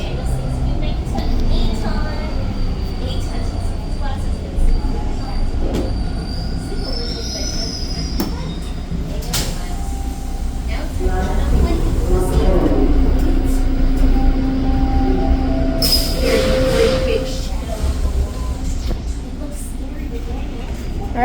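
A Toronto TTC Line 2 subway train pulls out of a station, its loud steady rumble rising as it gains speed, with wheel squeals and a brief high-pitched door or signal tone heard from inside the car.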